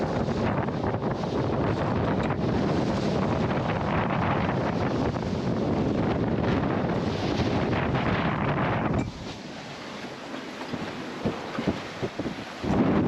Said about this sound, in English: the wind actually picked up quite a bit